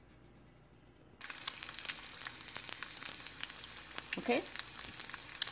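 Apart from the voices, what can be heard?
egg frying in a pan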